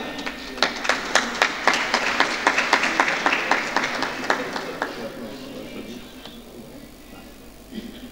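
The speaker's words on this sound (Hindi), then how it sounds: "भरपूर तालियों में इस्तकबाल कीजिए" Audience applause greets a poet at a mushaira in Toba Tek Singh, a run of fairly sparse, distinct claps that is strongest early on and thins out toward the end, with no talking.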